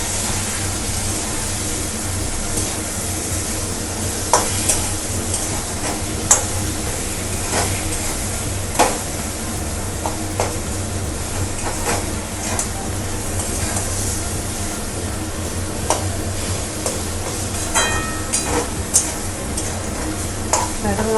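Mutton with turmeric being stirred in a pan, a steady sizzle running throughout with occasional clinks and scrapes of a utensil against metal, close and fairly loud, no talking.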